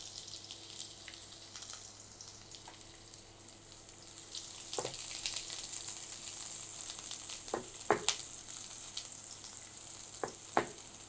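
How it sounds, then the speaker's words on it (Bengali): Two onions added to a little oil in a frying pan hiss in a steady, moderate sizzle, broken by several sharp utensil clicks and taps against the pan. "ফ্রাই প্যানে অল্প একটু তেল দিয়েছি, আর এখানে পেঁয়াজ দিয়ে দিচ্ছি।"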